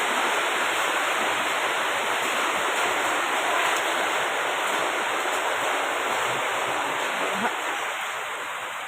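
Floodwater rushes steadily into a shop through a leaking hole, a loud continuous broadband roar with no breaks across the whole stretch.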